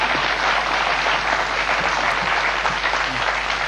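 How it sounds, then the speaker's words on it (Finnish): A studio audience applauds a guest on a Finnish talk show, dense steady clapping that holds at an even loudness for the whole stretch with no voices on top. "Annetaan Nummiselle aplodit tähän väliin."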